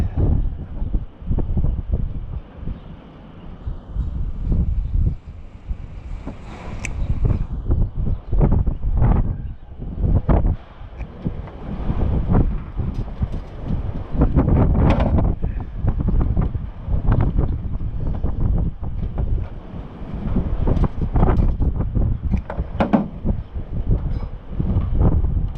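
Steady wind buffets the microphone throughout, a rough low rumble with irregular gusty bursts and no talking.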